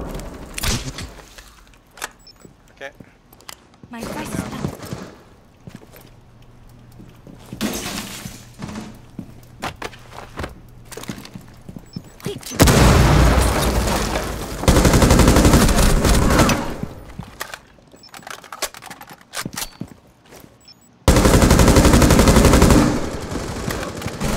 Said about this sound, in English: I can open up a hole right here shooting. It's unreinforced. I'm gonna breach that wall